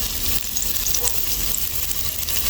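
Onions hit hot oil and fry with a loud, steady hiss and crackle, close up and continuous, with no voice over it.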